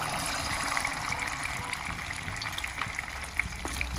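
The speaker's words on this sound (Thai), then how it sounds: "นำไข่สามฟองลงไปทอดนะครับ" Steady crackling sizzle of three eggs frying in a little hot oil in a pan, a continuous bright hiss with scattered pops, close and fairly loud.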